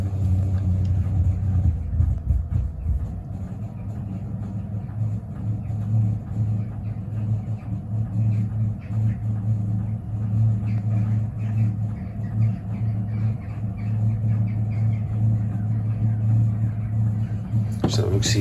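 Low droning hum of a Webasto Thermo Pro 90 diesel heater starting up and taking in fuel, a steady tonal rumble with a louder shift near the start and a scrape near the end, heard up close.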